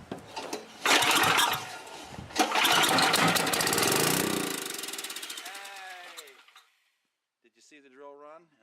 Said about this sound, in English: It should only kick over and sputter for a few seconds